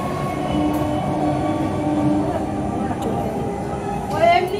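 A train rumbles and clatters at a railway station with steady mechanical drone, while people talk nearby and a high squeal or horn-like tone rises near the end.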